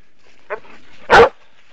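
A dog outdoors gives a short soft yip followed by a single louder bark, close by, with quiet gaps around them.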